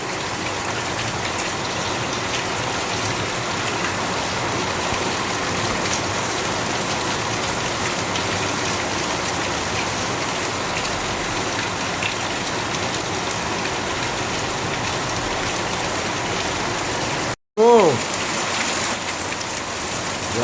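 Heavy rain pours steadily in a dense, continuous hiss, briefly cut off near the end before the downpour resumes.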